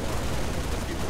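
A firefight in Halo Reach on Legendary difficulty in New Alexandria fills the moment with a continuous, dense wash of gunfire, steady and loud without clear gaps between shots.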